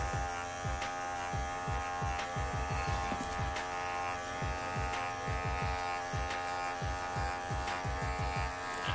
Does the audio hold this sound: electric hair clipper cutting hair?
yes